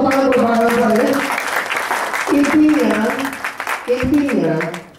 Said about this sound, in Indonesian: tepuk tangan buat Pak Gansar ya.